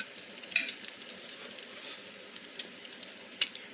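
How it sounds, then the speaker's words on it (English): An egg frying in oil in a pan, a soft, close, continuous sizzle with small crackling pops and a faint utensil clink near the start, no talking. "Now we'll try to flip this egg, and we'll let all that goodness go down in the oil and flip it over."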